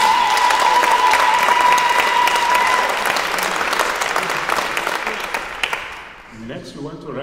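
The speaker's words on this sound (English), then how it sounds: "A big round of applause to you for being here." A concert hall audience at a singing prize event applauds loudly and steadily for about six seconds before the clapping tapers off, and a speaker's voice comes in at the end.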